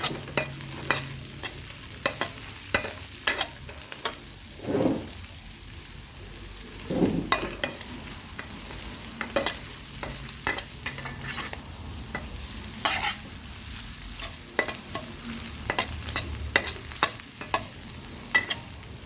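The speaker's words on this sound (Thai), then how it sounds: "ตามด้วยกุ้งครับ ผัดด้วยไทยกลางๆ ฮะ" Shrimp stir-fry over medium heat in a pan, with a soft continuous sizzle broken by repeated scraping and clattering strokes of a spatula, close and moderately loud.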